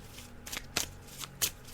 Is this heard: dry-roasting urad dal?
no